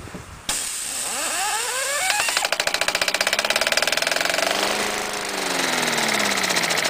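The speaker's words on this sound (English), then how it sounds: "You can make a Briggs & Stratton run with no ignition." A Briggs & Stratton small engine runs with no ignition coil. It winds up, then settles into loud, rapid, regular firing pulses that drift in speed, and no one speaks.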